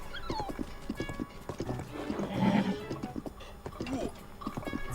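Rapid hoofbeats of a horse galloping in Zelda: Tears of the Kingdom, with a loud whinny swelling in the middle, close and busy over game background sounds.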